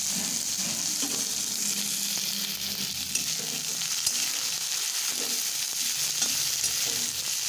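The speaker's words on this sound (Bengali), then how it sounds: "টমেটোটা দেওয়ার পর টমেটোটা নরম হয়ে আসা পর্যন্ত একটু নাড়াচাড়া করে নেব" Chopped tomato and onion fry in a pan and are stirred with short scraping strokes, a dense, loud, continuous sizzle running throughout with no voices.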